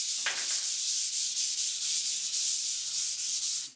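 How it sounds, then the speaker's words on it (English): Light hand sanding of primed ceramic tile with 240 grit sandpaper, a steady close scratchy rasp with even back-and-forth strokes throughout, with no voices. "We're going to give it a light sand with some 240 grit."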